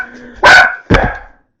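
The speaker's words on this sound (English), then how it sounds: "The dogs are barking." Two loud, close dog barks in quick succession, the second slightly shorter, with no other sounds in between.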